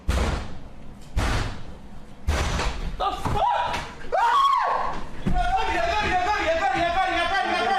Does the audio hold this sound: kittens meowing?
no